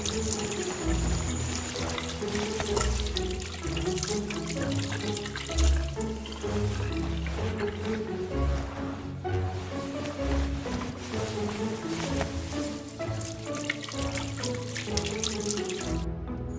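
Running water splashes steadily from a tap while clothes are washed by hand, a continuous close gush and slosh with small clatters and no talking.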